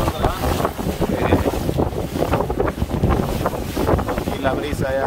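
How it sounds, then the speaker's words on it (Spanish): A small motorboat rides an increasingly rough sea off Amapala, Valle, Honduras, with steady wind buffeting the microphone over the engine and water noise for the whole stretch. "aquí ya se está poniendo un poco bravito el mar"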